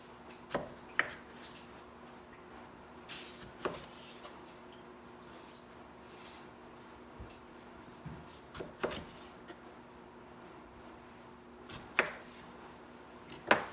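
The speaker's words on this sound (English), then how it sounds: "It says to half the tomatoes lengthwise." A knife cuts Roma tomatoes in half lengthwise on a board, giving sparse, sharp knocks spaced a few seconds apart, close and fairly quiet, with no talking.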